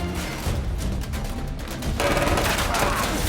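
Dense bursts of gunfire fill a film shootout, loud and continuous rapid shots that grow heavier partway through, with no speech over them.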